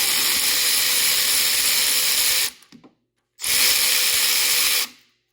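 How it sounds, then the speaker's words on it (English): A Milwaukee cordless wrench tightens intercooler piping in two loud, sustained bursts of whirring, rattling impact, each about two and a half seconds long and separated by a short silence. "So grab yourself one of these Milwaukee wrenches right here, because all I got to do is come in here"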